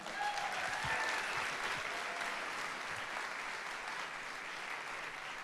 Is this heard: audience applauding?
yes